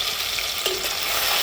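A paste of ground ginger, garlic and onion sizzles loudly in a hot wok, a dense continuous hiss with no voices.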